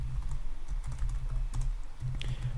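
Close computer keyboard typing an Angular ng generate command: quick irregular clicks and clacks in short bursts with brief pauses, heard alone.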